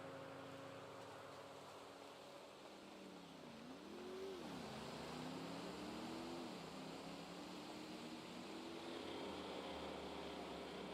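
A truck drives away in a roleplay driving game, its engine droning steadily and then revving up in pitch, rising and falling through gear changes and staying loud to the end.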